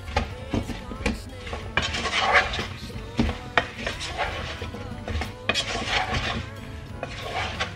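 Apples stirred in a pan with melting butter and sugar, a spoon scraping and clattering against the pan in irregular knocks and clinks, fairly close, over a low kitchen hum.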